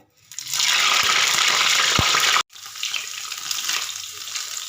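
Whole bitter gourds (karela) dropped into hot oil set off a loud, steady, hissing sizzle that bursts in at once, cuts out briefly partway through, then resumes a little softer.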